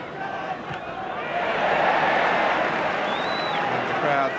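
Football crowd at a 1982/83 Liverpool versus Stoke City league match applauding a tackle, a broad, steady roar of clapping and cheering that swells and holds loud after the first second and a half.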